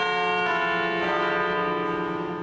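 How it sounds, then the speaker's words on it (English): The bells of Notre Dame cathedral in Paris ring out in a steady, sustained peal with rich, lingering overtones. No voices are heard. "when the bells of Notre Dame ring,"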